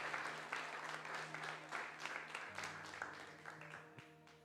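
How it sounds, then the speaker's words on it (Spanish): Congregation applause during a Spanish-language Protestant sermon, many hands clapping in a loose rhythmic patter at a moderate distance, fairly soft and steady, with a faint voice and low hum underneath. "Dale un aplauso a ese nombre bendito."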